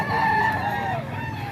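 A young stag fighting cock gives a single short, close crow, a loud wavering call lasting about a second.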